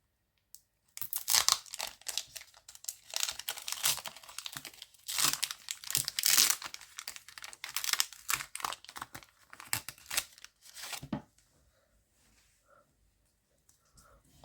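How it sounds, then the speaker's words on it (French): A Pokémon Go booster pack wrapper is torn open, with a burst of close, crisp crinkling and ripping foil that comes in irregular bursts before fading to near silence. No speech. "nous allons ouvrir le prochain booster"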